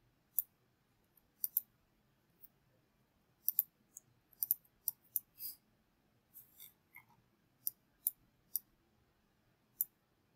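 Computer mouse clicks at a desk, sharp and close, coming singly and in quick pairs with quiet pauses between.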